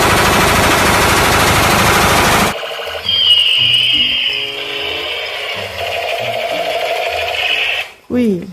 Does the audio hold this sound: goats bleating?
no